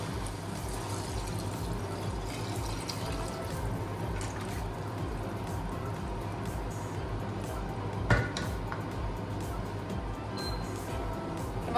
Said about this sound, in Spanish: Hemos añadido el agua